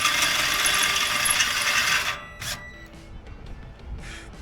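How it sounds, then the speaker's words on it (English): Bolts being driven into a bracket on a new boat, heard close as a loud whirring and ratcheting power-driver burst that stops abruptly, followed by a few short mechanical clicks and a brief final buzz. "Let's get some bolts in."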